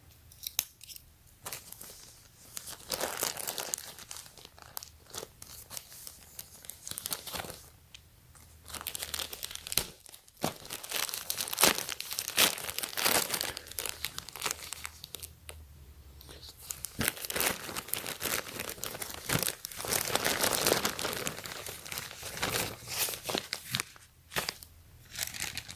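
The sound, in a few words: unwrapping a yellow bubble envelope package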